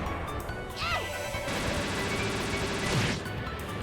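Glass smashes in the video game The Legend of Heroes: Trails in the Sky, a loud close crash with a bright shattering burst that recurs over a short span and has no talk over it.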